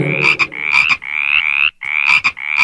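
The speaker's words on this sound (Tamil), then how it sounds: "தவளைகள்" Frogs croaking in repeated loud, rasping bursts, about six close calls in an uneven rhythm with short gaps between them.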